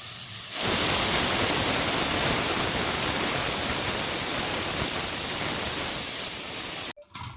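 A pressure cooker boiling potatoes lets off a loud, steady hiss of steam that starts abruptly and holds for about six seconds before cutting off.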